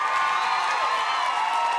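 Comedy show audience cheering and whooping with some clapping, a dense, loud wave of crowd noise that stays steady for a couple of seconds, no distinct speech.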